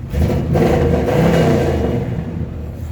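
A car engine idles steadily and loud, close by, with a constant low rumble and slight whir that holds through the whole stretch and does not rev.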